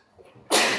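A single sharp sneeze bursts out after a brief quiet moment, close and abrupt.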